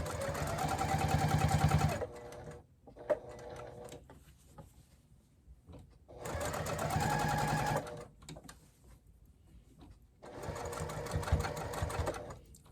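A sewing machine top stitches around a fabric bowl cozy in three bursts of roughly two seconds each, close and steady, with quiet handling noises in the pauses.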